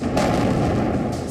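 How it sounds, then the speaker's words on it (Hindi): A heavy, booming blast at an explosives factory rumbles with deep low-end energy, a short burst of explosive noise. "बम बारूद की फैक्ट्री में धमाके"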